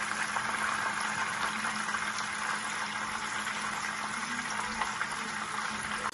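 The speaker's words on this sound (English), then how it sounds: "you allow it to simmer a little bit" Spinach stew with eggplant and salted fish simmering in a pot: a steady, dense bubbling hiss that stays even throughout, close up and with no voices.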